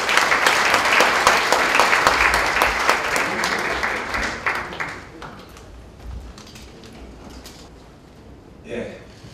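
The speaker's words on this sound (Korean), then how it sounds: "이명호 부원장님을 뜨거운 박수로 맞이해 주시기 바랍니다" Conference audience at an ICT development forum applauding to welcome a keynote speaker, dense clapping that thins out after about five seconds into scattered claps and room noise, with a brief bump of sound near the end.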